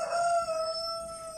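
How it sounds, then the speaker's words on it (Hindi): A rooster gives a single loud, close crow, one sustained call that tapers off at the end. "मुर्गा है, मुर्गा मम्मा का बेटा।"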